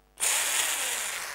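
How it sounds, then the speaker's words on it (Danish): A borrowed red and green pistol-shaped electric drill starts abruptly and whirs steadily at full speed, loud and close, with no talking. "det er også hendes boremaskine, som jeg har lånt"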